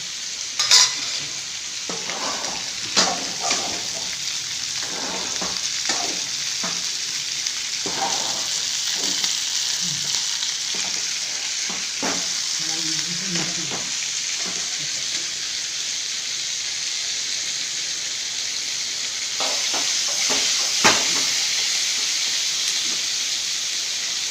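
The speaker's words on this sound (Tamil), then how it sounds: "எண்ணெயில் கொஞ்சம் வதங்கட்டும் வதங்கின பிறகு பச்சை பொடி போட்டுக்கலாம்" Vegetables sauté in hot oil in a home kitchen for a Tamil lunch, with a steady sizzle and frequent scraping, clinking stirs from a spoon against the pan, close and continuous, with no talking.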